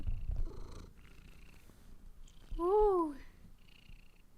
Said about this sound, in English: She's purring right into the mic for you.